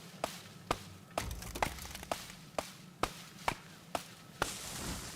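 Rhythmic axe strikes on a tree in Don't Starve Together. About nine crisp, close thunks come at a steady pace over a soft background drone, and no voices are heard.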